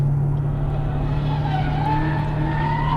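A Chevrolet Corvette Stingray pulls hard on a race track, its engine droning loudly and steadily from start to finish while the pitch of its whine slowly climbs as the car builds speed.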